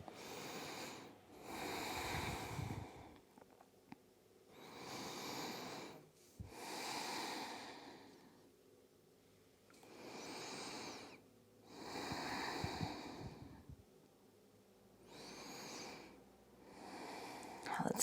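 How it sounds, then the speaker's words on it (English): During a seated forward-fold stretch, slow, deep belly breaths come close to the mic, with about five long airy inhale and exhale cycles and quiet pauses between them. "Deep belly breaths here."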